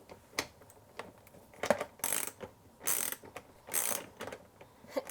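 A ratcheting socket backs a nut off a Furrion battery monitor shunt with close, crisp bursts of clicking that come in separate short runs between pauses, with no talk.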